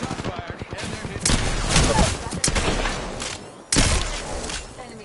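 Apex Legends gameplay with bursts of rapid automatic gunfire and sharp single shots, loud and up close, mixed with impact thuds and a voice speaking over the action.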